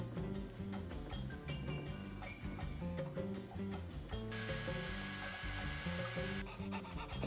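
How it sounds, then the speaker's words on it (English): A hole is drilled and filed in a scratch-built robot frog model for a wooden rod arm joint, rasping strokes repeating under steady background music. "Drill and file a hole for the joint."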